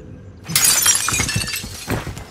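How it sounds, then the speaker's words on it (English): Glass shatters in a video game, a sudden bright crash followed by tinkling fragments and scattered debris over about two seconds, loud and close with no voices. "Did you break glass?"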